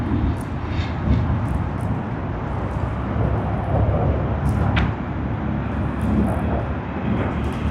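An airliner arriving at Sydney Airport, a broad continuous rumbling roar of jet engines, fairly loud and sustained, with a few faint brief higher sounds above it.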